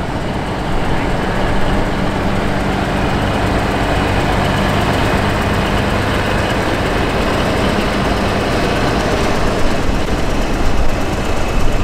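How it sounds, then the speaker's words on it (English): Engines of a pair of International Transtar cab over trucks rumbling steadily in a tractor parade, a loud continuous low drone with broad outdoor noise. "Here we can see a pair of International Transtar cab over trucks."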